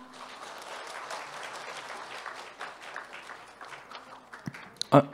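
Warm audience applause at a Yeongdeungpo district public debate forum on sanitation and cleaning issues, moderately loud and continuous, then thinning out near the end under a few spoken words.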